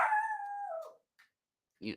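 A dog lets out a loud, drawn-out howl up close that trails off after about a second, then follows with a single short bark after a brief pause.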